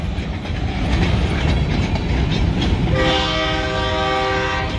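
A short freight train hauling a couple of empty tank cars rolls past close by with a steady rumble, and its horn sounds a sustained chord during the last couple of seconds.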